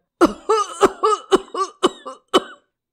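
A rapid series of about eight harsh, throaty coughs in quick succession, close and loud, with no talking.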